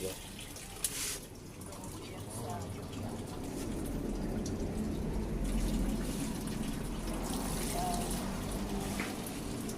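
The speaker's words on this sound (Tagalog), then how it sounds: "Lagyan natin ng 2 basong tubig." Tap water running steadily into a container as two glasses are measured out for an herbal medicine decoction, a continuous close splashing that swells midway, with brief voices underneath.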